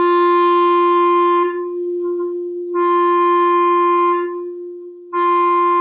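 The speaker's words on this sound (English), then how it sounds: "You can still hear that tone, that pitch that's happening when I'm just muffling the tip." A clarinet sounds an open G while the tongue lightly muffles the reed tip. Three sustained, steady-pitched tones play alone, each a few seconds long, separated by short silences.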